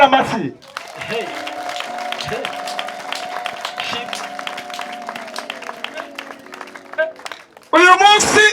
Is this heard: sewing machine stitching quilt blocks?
no